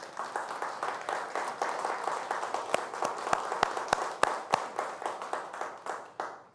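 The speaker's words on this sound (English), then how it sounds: "Can we have a round of applause?" An audience at a live-streamed film academy event applauds in a sustained, dense burst of clapping, with a few sharp, louder claps standing out before the applause thins toward the end.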